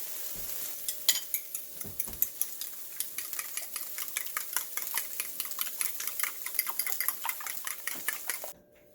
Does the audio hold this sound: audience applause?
no